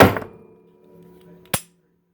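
A custom-built Glock trigger gives a single sharp mechanical click when dry-fired, close and alone after a short handling clatter at the start.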